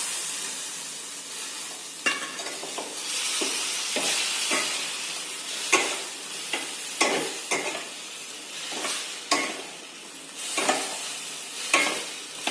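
Bitter gourd (karela) tossed into a hot pan with green chilli and red chilli powder, then stirred: steady frying sizzle broken by repeated scraping stirs and spatula knocks, close and fairly loud, no voices.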